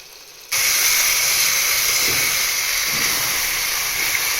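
Beef frying in ghee for biryani breaks into a loud, steady sizzle that starts abruptly and holds as a continuous hiss without pause.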